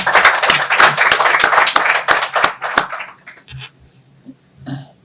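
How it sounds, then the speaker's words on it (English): A small audience at a Nigeria national football team press conference before a World Cup qualifier against Benin gives a brisk burst of applause that lasts about three seconds, then trails off into a few scattered claps and faint room noise. "Please, let's give him a round of applause."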